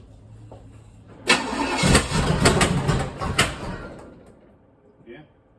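An old car with no choke cranks and fires into a rough, roaring start at its first start as a possible project, the engine loud and close for a few seconds before settling and fading, with voices around it.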